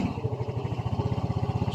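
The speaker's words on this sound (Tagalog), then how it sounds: "Start natin ang kanyang motor." Yamaha Mio Soul i 125 scooter engine starting and settling into a fast, even idle putter, a rapid low rhythmic chugging heard close up over a brief moment.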